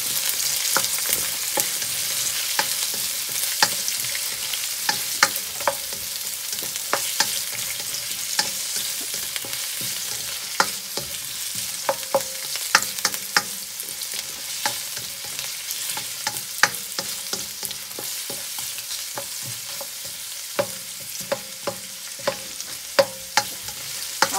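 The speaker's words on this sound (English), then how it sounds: "I'm gonna let this saute for about 2 minutes" Garlic, bay leaves and ginger sauté in a pan for duck curry, giving a loud, constant crackling sizzle dense with sharp pops and spits throughout, close up and with no talking.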